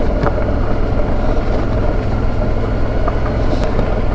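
Motorcycle riding along a dry forest track into the woods, a steady low engine drone with wind buffeting the microphone, continuous and close for the whole stretch.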